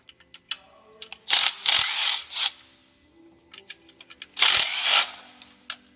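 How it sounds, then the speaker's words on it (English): A ratchet with an extension and an 8mm swivel socket works 8mm bolts on the intake manifold of a 3.6 V6 Pentastar engine, giving sharp scattered clicks broken by two louder, rough whirring bursts. "I like to use an extension on my ratchet with an 8mm swivel socket"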